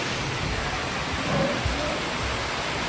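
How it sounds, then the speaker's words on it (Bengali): A sudden heavy rainstorm pours down in a steady, dense hiss with no break, loud and continuous throughout. "পুরো ঝম ঝম ঝম ঝম করে বৃষ্টি হচ্ছে এটা"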